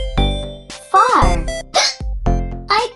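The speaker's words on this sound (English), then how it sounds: "I get the hiccups." A lively voice performs a few sharp, abrupt hiccups between bursts of speech in a children's spelling lesson, loud and close.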